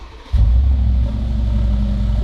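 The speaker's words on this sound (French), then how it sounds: "Mais j'ai installé l'échappement Miltech" A Mercedes G-Wagon engine fitted with a Miltech exhaust barks to life and holds a deep, loud, rumbling rev, close to the tailpipes.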